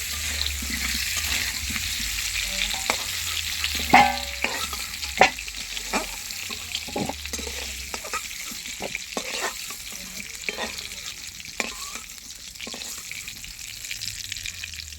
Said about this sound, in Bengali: আলু ভাজা হয়ে গেছে এবার নামিয়ে নেব